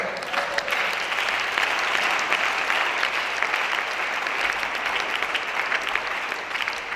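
A worship congregation applauds steadily and loudly throughout, a dense wash of clapping hands with some faint voices mixed in.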